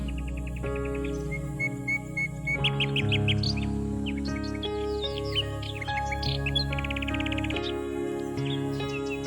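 Birds chirp and whistle in a tree as a sound effect for a children's Christmas skit, with bright overlapping calls over a steady droning musical backdrop throughout.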